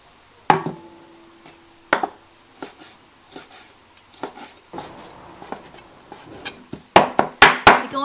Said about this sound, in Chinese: 然后把那个肉剁成圆子